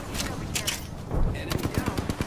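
Gunfire in the Apex Legends video game, a rapid burst of automatic shots with a few louder cracks, close and punchy over brief game sounds.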